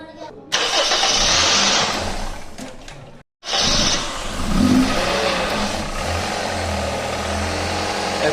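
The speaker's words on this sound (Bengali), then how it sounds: "ইঞ্জিলের সাউন্ড অনেক স্মুথ এখন" A 2013 Toyota Corolla Axio's 1NZ EFI petrol engine is close by: it cranks, goes briefly silent, then catches and settles into a smooth, steady idle with a short rev, while voices talk nearby.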